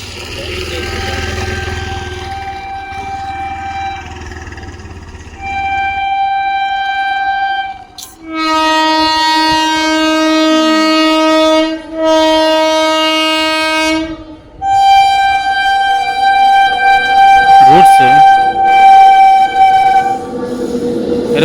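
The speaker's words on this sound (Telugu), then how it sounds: "అదిగో ఇంకో ట్రైన్ వస్తుంది అటు నుంచి అటు నుంచి వస్తుంది" A train rumbles past close by at a level crossing, sounding long, loud horn blasts in several sustained bursts over the rolling clatter of the cars.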